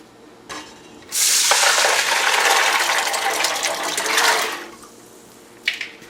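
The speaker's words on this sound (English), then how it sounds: "I let them soak overnight, and now I'm going to add them to a pot." Soaked beans being poured into a pot, a steady rushing patter of beans and water for about three seconds after a small knock, with a light clink at the end.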